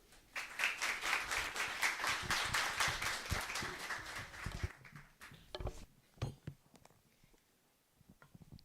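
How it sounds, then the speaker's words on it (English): Listeners at a special conversation with Pita Limjaroenrat on democratic resilience applaud as speakers take the stage. Thick, continuous clapping lasts several seconds, then thins to scattered individual claps that fade toward quiet. "Give a warm round of applause for Mr. Pita Limjaroenrat and our moderator"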